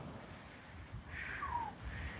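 A single crow caws faintly in the distance at an oceanside beach spot on Oak Island, North Carolina, its brief hoarse call set against low wind and surf rumble.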